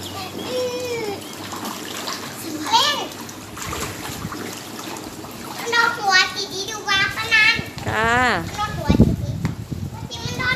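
Water splashes from sliding down a pool water slide, with running water and children's voices and shrieks around it. Someone talks throughout.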